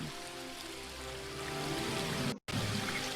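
A small spring brook flows steadily in the video game Book of Unwritten Tales 2, a continuous soft rushing wash of water with one very brief cut near the end.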